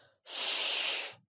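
A single long, heavy exhale blown into an inflatable mattress, a steady breathy rush lasting about a second, close and fairly loud, with silence on either side.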